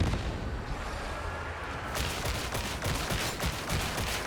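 Grenade blast in Warhammer 40,000: Darktide, a dense wall of rumbling detonation and crackling gunfire that rises sharply partway through and keeps rattling with rapid bursts, loud and close, with no talking.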